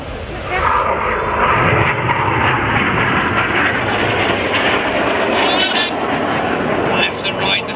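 Red Arrows jet aircraft flying past at an air display, a loud sustained roaring jet rush filling the whole stretch, with a commentator speaking over it.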